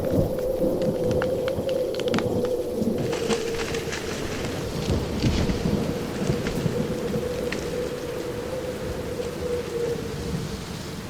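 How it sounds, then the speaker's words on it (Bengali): Thunder rumbles low and long over heavy, steady rain pounding the ground, in a continuous storm sound effect with no voices. "ঝড় এসে সমস্ত অরণ্যকে জাগিয়ে দিয়ে গেছে। এখন বৃষ্টি পড়ছে মুষলধারে।"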